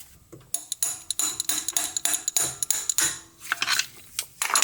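Ratchet clicking in quick, uneven bursts while a Honda PCV valve is worked loose with a flathead, close by, with sharp metallic ticks and knocks.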